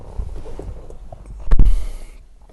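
The 2014 Hyundai Santa Fe's 2.4-litre petrol engine is started with a key. A short, loud starter burst at about 1.5 seconds follows low handling noises, then settles into a rumbling idle.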